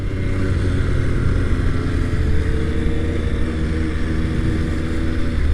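An MV Agusta Dragster 800 RR motorcycle heard from the rider's seat as it pulls over, a loud, steady engine drone with heavy wind rush and no talking.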